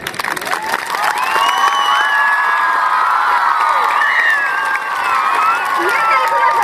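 School children hooting, whooping and cheering at an Independence Day celebration, a loud sustained crowd of young voices with shouts and whistles, some scattered clapping underneath.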